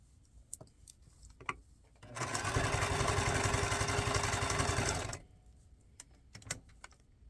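Sewing machine stitching through paper and fabric scraps for junk journal snippet rolls, a steady close mechanical whirring burst of about three seconds between quiet handling clicks and taps.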